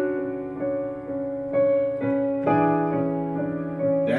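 Piano playing a dissonant chord from the worship song "I Call You Jesus" by Israel and New Breed, with the left hand holding a low D bass; sustained tones restruck every half second or so, close and clear, no talking.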